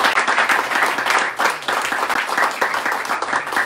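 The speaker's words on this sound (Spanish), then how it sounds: "dándole el más fuerte aplauso a nuestro apoderado" A dense round of applause rings out at a press conference for the Titanes sports team, steady and fairly loud with a brief dip partway through.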